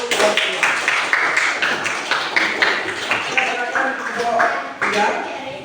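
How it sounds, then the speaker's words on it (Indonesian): A classroom group claps together in a steady run of sharp, close handclaps, rhythmic and loud for several seconds, welcoming a group of students. "Tepuk tangan untuk kelompok"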